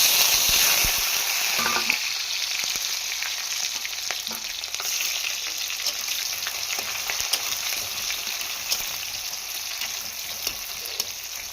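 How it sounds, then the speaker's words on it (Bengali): Chopped onion sizzling loudly in oil with cumin, bay leaf and chilli in a pan, a steady close hiss with occasional scraping stirs and no talk. "দেখো কি সুন্দর ভাজা হয়ে গেছে পেঁয়াজটা"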